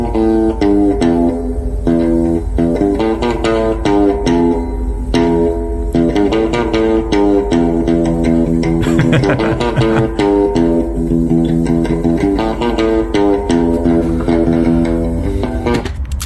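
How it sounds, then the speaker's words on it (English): An out-of-tune guitar plays a short riff from an old recording, with repeated chords and picked notes in a steady loop, somewhat rough and dense, with no voices. "The guitar is out of tune"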